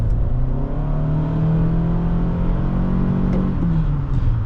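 A 2023 Toyota Sienna LE Hybrid minivan accelerating in sport mode, its engine and drivetrain giving a loud, steady rising hum and road rumble heard from inside the cabin with no talking.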